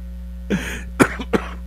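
Three short coughs or throat-clearing bursts, close and fairly quiet, spaced over a couple of seconds against a low steady hum.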